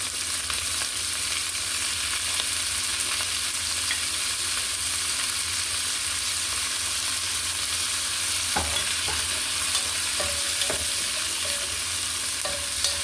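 Sahog ingredients for beef goto sautéing in a pan, a steady broad sizzle with stirring throughout and a few sharper pops and crackles near the end, no talking.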